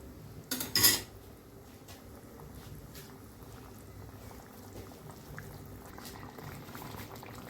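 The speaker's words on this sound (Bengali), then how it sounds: "ঝোলটা ফুটে এসেছে মোটামুটি ঝোলটা ফুটে এসেছে" Egg and potato mustard gravy simmering in a pan, giving a faint, steady bubbling and soft crackle after a brief louder clatter of utensil against the pan at the start.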